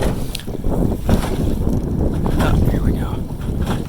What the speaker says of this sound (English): So I'm kind of fighting some waves in my little canoe.